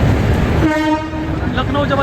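A Vande Bharat Express train blasts its horn up close while running, a loud sustained harmonic tone over the rumble of the rails.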